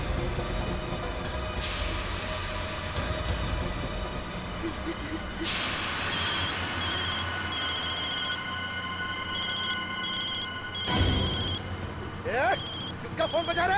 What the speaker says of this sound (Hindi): किसका फोन बजा रहे? किसका फोन बजा?